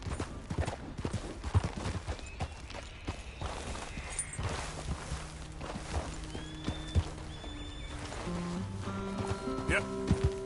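Horse hooves clip-clop in Red Dead Redemption II in a steady walking rhythm, close and distinct, with a short whinny and game sounds mixed in and some talk over them.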